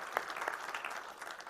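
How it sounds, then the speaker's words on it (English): A seated audience at an IEC General Meeting claps in sustained applause, a soft, fairly distant and even patter of many hands without speech. "A round of applause for you."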